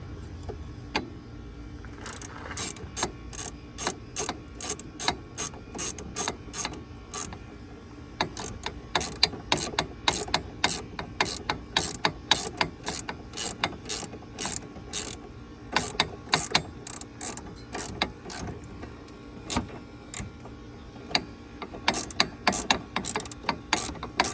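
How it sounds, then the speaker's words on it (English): A ratchet cranks down BC Racing coilovers on a car, producing long runs of rapid, close mechanical clicking in bursts with short pauses between strokes, loud and alone. "then we'll crank them down"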